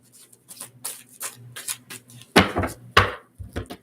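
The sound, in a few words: shuffling a deck of cards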